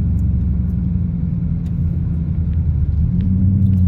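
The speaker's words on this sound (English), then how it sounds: "That is one sweet ass Saab. 96 model. Front wheel drive, V4." A Saab 96 with front-wheel drive and a V4 engine driving down a road: a steady low engine rumble and road noise, close and continuous, with no talk.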